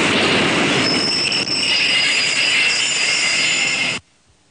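A U-Bahn subway train runs loud and close, with continuous rumbling, rattling wheels and a high metallic squeal, until the sound stops sharply.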